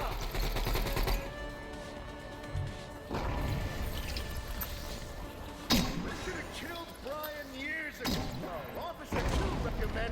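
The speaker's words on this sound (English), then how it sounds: "this boss fight's just gonna be spamming nail gun shots, AK, and" Nail gun, AK rifle and phase launcher fire in a Vertigo 2 boss fight, rapid loud bursts of gunshots and sharp impacts with electronic whooshes and game effects, crowded and continuous with sudden loud hits.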